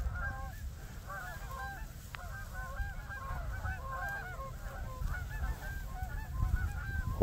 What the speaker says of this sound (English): Flying veal, I believe, is what the Minnesotans refer to the Canada goose.